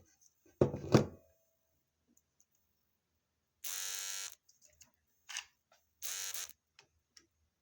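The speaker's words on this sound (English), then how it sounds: "So I was playing around with this motor." A small electric motor used for kinetic art runs in short bursts: an opening clunk, then a high buzzing whir for about a second, a brief blip, and another short whir, separated by silence and faint clicks.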